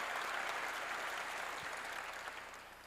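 A church congregation claps together during a sermon, a dense, steady wash of applause that begins full and slowly fades over a few seconds.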